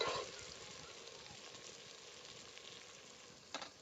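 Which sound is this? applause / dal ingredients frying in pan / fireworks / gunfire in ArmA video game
dal ingredients frying in pan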